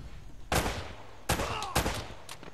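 Gunfire in the video game Uncharted: Drake's Fortune: a few sharp, loud shots crack out in quick bursts, separated by short pauses, with no talk over them.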